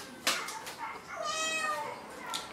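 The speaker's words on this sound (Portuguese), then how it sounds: "Mia aqui pra câmera." A house cat meows once, a clear drawn-out call near the middle, with faint indoor sounds and a brief human voice around it.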